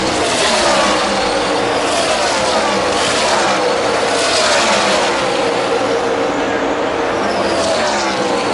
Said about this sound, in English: Inevitably, 4 tires beats 0 tires as you see Kevin Harvick passing Joey Logano here to retake the lead.